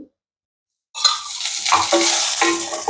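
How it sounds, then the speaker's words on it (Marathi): Garlic, chili and ginger hit hot oil in a kadhai and start a loud, steady sizzle after a short silence, with faint stirring scrapes through the frying. "लसूण मिरची आलं थोडस भाजून घेऊया"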